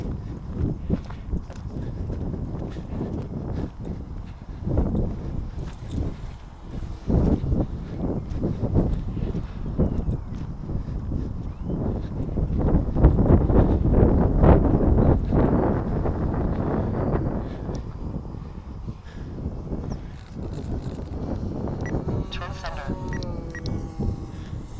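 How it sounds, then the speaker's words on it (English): Gusty wind blows off a hill into an outdoor microphone, a steady rumbling buffet that swells toward the middle, with scattered footsteps and handling noises mixed in. "Bit of wind coming off the hill there."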